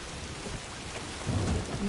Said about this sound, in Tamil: மழை பிச்சுக்கிட்டு போகுது.